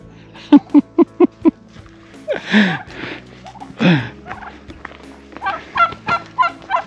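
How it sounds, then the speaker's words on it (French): Guinea fowl call nearby in quick rhythmic bursts of harsh, repeated clucks, with breathy rasping noises in between, outdoors in Montardit, Ariège. "c'est pas des dindons, c'est des pentades."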